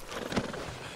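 A horse in the Red Dead Redemption 2 video game lets out a single brief snort or whinny, close and fairly quiet, with no talk over it.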